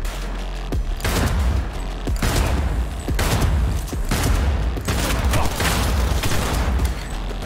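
Gunfire rattles through a Cyberpunk 2077 firefight in repeated loud bursts of rapid shots, each volley followed by brief lulls before the next barrage.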